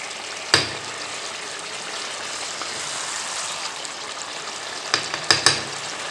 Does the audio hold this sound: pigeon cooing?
no